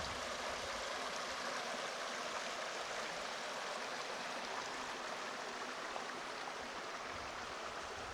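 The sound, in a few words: Cabin Creek flowing in the forest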